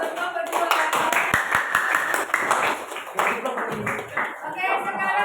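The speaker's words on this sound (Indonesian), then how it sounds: "Berikan aplaus untuk kelompok 2." Group of workshop participants clapping for a presenting team at a teacher training session, a dense continuous patter of many hands under a few scattered voices.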